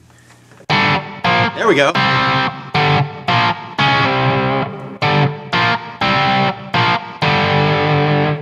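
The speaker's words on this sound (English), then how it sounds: "Let me turn the distortion down so it's a little more natural." An electric guitar with its distortion turned down plays a riff, loud choppy chords in short bursts separated by brief gaps, with a bend near the start and a voice speaking briefly.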